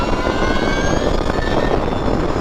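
A 2022 Energica Ribelle RS electric motorcycle accelerates at half throttle, its rising electric whine blended with strong wind rush, loud and steady throughout.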